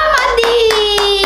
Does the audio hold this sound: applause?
yes